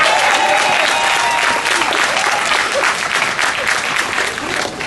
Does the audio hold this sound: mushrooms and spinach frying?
no